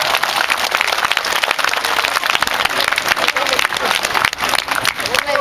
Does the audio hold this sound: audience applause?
yes